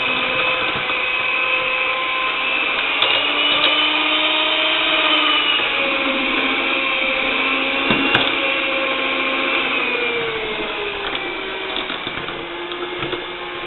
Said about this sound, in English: I'm going to mix it on low speed because I don't want it to incorporate a lot of air